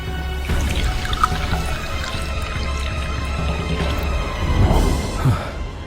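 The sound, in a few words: water sprinkled onto a small soil mound with seeds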